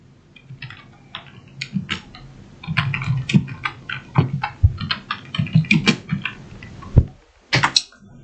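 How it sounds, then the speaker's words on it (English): Keys clatter on a computer keyboard in a studio, close and crisp, in uneven bursts of quick strokes with short pauses between them and no talking over them. "That's why you can hear the keyboard making noise."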